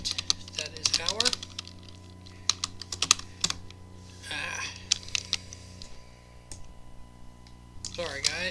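Computer keyboard being typed on, irregular close clicking keystrokes in short bursts over a low steady hum, with a voice talking at times.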